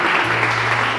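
A church congregation claps in a dense, steady burst of applause, brief and close, with a faint low hum underneath and no clear speech.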